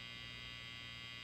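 Steady electric buzz from a single-coil electric guitar pickup, the middle pickup alone, a noisy hum with bright upper harmonics held constant at low level with no playing or talk.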